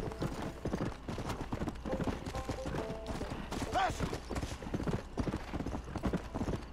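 A horse's hooves clip-clop steadily in Red Dead Redemption, a close, continuous trotting rhythm with a short whinny-like cry partway through.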